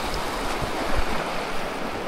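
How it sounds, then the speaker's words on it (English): Rockingham Creek, a mountain stream in Mt Robson Provincial Park, rushing loudly and steadily nearby as a dense, continuous broadband wash of flowing water with no voices over it. "Here's Rockingham Creek."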